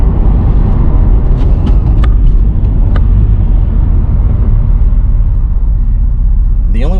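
A supercharged Mercedes W203 AMG cruises on the highway with a loud, steady engine drone, road rumble and faint supercharger whine throughout, plus a few brief higher ticks.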